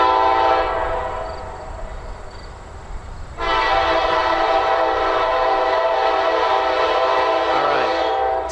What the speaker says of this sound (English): You can hear the VRE horn in the distance.